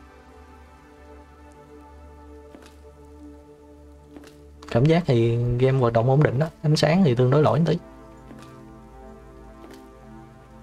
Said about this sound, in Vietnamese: Bên ngoài trời mưa